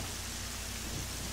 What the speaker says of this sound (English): Wow, look at this weather. It's freaking fucking raining.